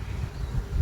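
Honey bees buzzing in an open hive during an inspection, a low, steady drone that fills the brief moment closely and evenly.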